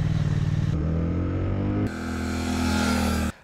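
A Triumph Speed Twin 1200 twin-cylinder motorcycle engine, a 2019 model, runs close by with a pulsing low rumble that shifts pitch between steady segments, then cuts off abruptly near the end.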